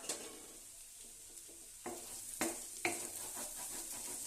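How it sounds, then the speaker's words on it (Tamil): Bitter gourd fries on high flame under a constant sizzle. Soft stirring scrapes come first, then three sharper utensil knocks against the pan in quick succession. Nobody is talking. "பாருங்கள் ஃப்ரெண்ட்ஸ், நல்லா ஃப்ரை ஆகிட்டு இருக்குது"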